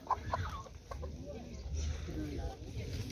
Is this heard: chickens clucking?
yes